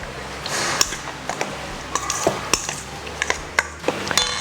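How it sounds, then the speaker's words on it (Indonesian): Chicken marinade with garlic, ginger, turmeric and paprika is stirred in a bowl, giving close, irregular clinks and wet scraping taps of a utensil against the dish. "Kita akan aduk jadi satu."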